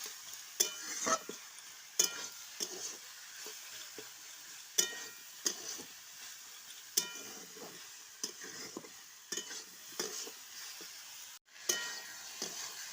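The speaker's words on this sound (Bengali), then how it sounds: "একটা কাঁচা লঙ্কাও দিয়ে দিয়েছি একটু এটা কষিয়ে নিয়ে জল ঢেলে দেবো" Green chilli and chilli powder being sautéed in a pan, with steady low frying sizzle, occasional stirring scrapes and sharp utensil clicks spaced through the stretch, fairly quiet and without talk.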